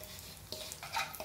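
A ground dry-fruit laddu mixture fries and is stirred in a pan, giving a soft sizzle with brief scraping stirs, quiet and close.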